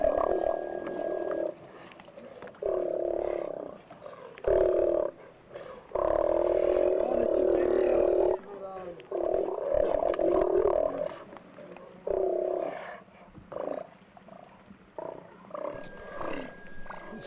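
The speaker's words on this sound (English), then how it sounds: "Sea lions grumble, growl, and roar, but they do not bark like seals do." Steller sea lions roaring and growling, a string of loud, deep, drawn-out guttural roars and grumbles, close and separated by short pauses, with no talk.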